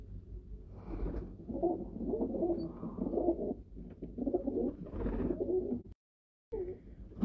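Breeder pigeons on a rooftop loft give a continuous run of low, rolling coos, several birds overlapping at moderate distance, broken by one brief silent gap before the cooing resumes.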